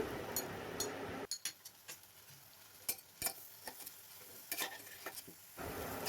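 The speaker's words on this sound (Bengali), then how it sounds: "2-3 মিনিটের মতো নেড়ে নেব। হাফ কেটে রাখা টমেটো দিয়ে দিলাম।" Halved tomatoes stirred in a frying pan as part of a pumpkin curry, a series of sharp spatula clicks and scrapes against the pan over a low, intermittent sizzle, close up with no talking.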